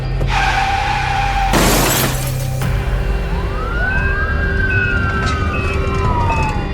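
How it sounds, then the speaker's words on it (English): A staged car crash effect: an engine hum cut by a loud burst of shattering glass and impact, followed by a wailing emergency siren rising and falling, all loud and close, with no voices. "suddenly an oncoming car flew into their path"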